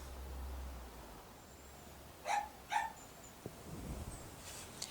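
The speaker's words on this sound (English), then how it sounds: "if you can hear barking, that is Katie, the miniature dachshund" Katie, a miniature dachshund, lets out two short, sharp barks in quick succession, somewhat distant and indoors, with faint rustling afterward.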